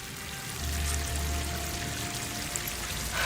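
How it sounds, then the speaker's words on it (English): A waterfall in the video game Horizon Forbidden West, a steady rushing pour of water, broad and continuous at moderate distance, with no talk. "That waterfall must be coming from somewhere."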